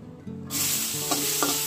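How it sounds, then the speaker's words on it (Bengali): Chopped onions and chillies drop into oil left over from frying hilsa fish, and a loud, close sizzle bursts up partway through, then holds with stirring clatter on top. "এবার আমি পেঁয়াজটাকে হালকা করে ভেজে নেব।"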